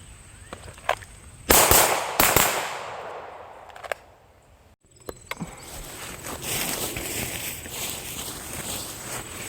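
Two quick, loud shots from a Glock 17 Gen 4 pistol, fired outdoors in fast succession, followed by fainter clicks and handling noise over steady background hiss.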